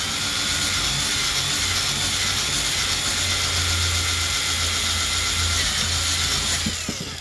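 A power drill whirs steadily as it bores rivets out of a farm toy, a continuous close grinding drone that holds for several seconds before cutting off near the end.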